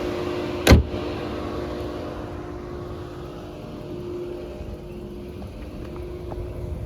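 A Volkswagen Touran 1.6 MPI petrol engine idles steadily and quietly, with a single sharp knock near the start; no one speaks.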